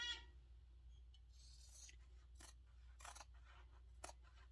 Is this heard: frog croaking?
no